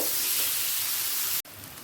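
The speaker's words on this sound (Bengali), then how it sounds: "সুন্দর সুগন্ধ বের হলে দিয়ে দেব কুচিয়ে নেওয়া মাছটা হালকা লাল হওয়া পর্যন্ত অপেক্ষা করব" Chopped fish pieces fry in mustard oil with a steady, dense sizzling hiss that cuts off abruptly near the end and then resumes more softly, no talk.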